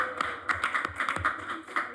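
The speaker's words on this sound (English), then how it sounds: "She gets applause." Brief clapping at a city council meeting, a modest group of hands patting in loose rhythm, close and fairly quiet, lasting about two seconds.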